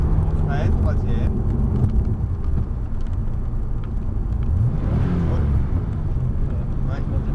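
A Porsche on the Montlhéry racing circuit accelerates hard from inside the cabin, its engine note climbing steadily and loud throughout, with a voice speaking over the drone.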